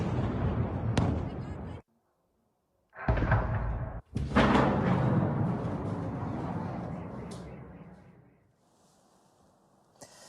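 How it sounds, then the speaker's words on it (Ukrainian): A series of loud, booming explosions from a massed Shahed drone attack on Kharkiv, broken by a short silence, ends in a long rumbling decay. "На відео чути серію вибухів."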